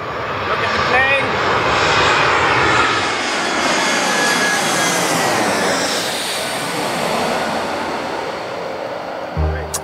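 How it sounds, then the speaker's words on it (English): A propeller airplane drones loudly overhead, its engine noise swelling and slowly fading, with a short thump near the end. "Look at the plane."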